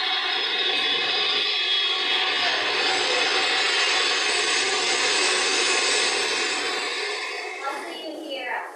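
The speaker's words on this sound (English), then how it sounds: "You hear an airplane." An airplane passes overhead as a loud, steady broadband engine roar that fills the clip, then fades slightly near the end.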